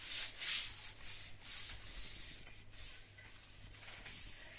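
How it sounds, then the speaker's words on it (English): Karcher floor cleaner working over a kitchen floor, giving repeated rubbing, scrubbing swishes in uneven bursts over a low steady motor hum, close and fairly quiet with no talking. "we'll also get the Karcher into some of those spots that I can't get into"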